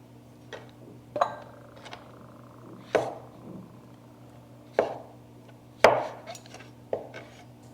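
Knife on a cutting board as chicken pieces are sliced fairly thick into thirds: a series of distinct, moderately loud chops and taps in an irregular rhythm over a steady low hum.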